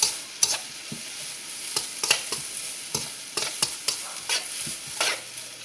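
Onions and carrots fry in a pan for a chicken stir-fry, giving a soft steady sizzle. Frequent sharp scrapes and clacks from a stirring utensil break in at an irregular pace, close by, with no talking.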